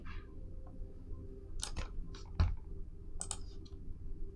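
Several quick, faint mouse clicks, some in close pairs like double clicks, at a computer workstation during 3D modeling work, set against a low steady room hum with no talking.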